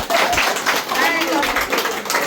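Family members and guests clap together at a dad's 60th birthday and retirement celebration, a short burst of hand claps mixed with voices and chatter.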